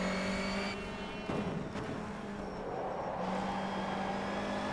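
A BTCC Honda Civic race car in rFactor 2 at Kyalami roars at steady high revs, loud and continuous, with a brief shift or lift in engine note midway as the car is thrown into a corner.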